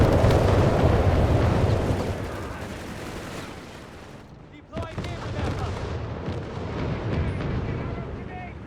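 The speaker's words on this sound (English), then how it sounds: "you can't outsmart artillery like that" An artillery barrage in Company of Heroes 3 sends a dense, rumbling roar of heavy shell impacts that slowly fades. A fresh sharp blast follows, then more booming fire rolls on.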